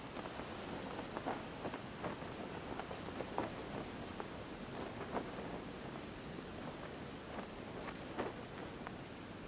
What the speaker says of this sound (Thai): นี่มันแค่ฝนตกเอง